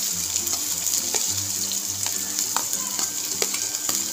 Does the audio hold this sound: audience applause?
no